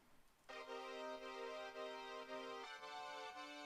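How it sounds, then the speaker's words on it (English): A sustained synth pad preset holds a bright, harmonically rich chord that shifts to a new chord partway through, steady and alone without any voice. "I also added this sound, which is a pad."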